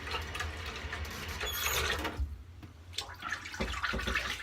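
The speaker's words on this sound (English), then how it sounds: "Alright, we're going to wet the brush. I'm going to get a little bit more hot water in here" Hot water runs and splashes into a mug or bowl to wet a shaving brush, with a steady watery rush, a few clinks and a short pause midway before the pouring resumes close up.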